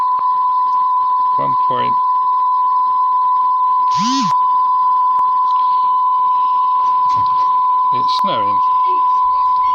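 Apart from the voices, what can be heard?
1005 Hz test tone played on cassette deck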